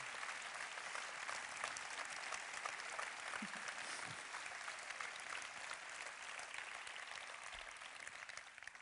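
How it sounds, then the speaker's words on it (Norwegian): Steady audience applause fills an employee end-of-season show held by a Norwegian municipality, sustained dense clapping at moderate loudness throughout with no talk over it. "Så jeg synes du også fortjener en stor applaus."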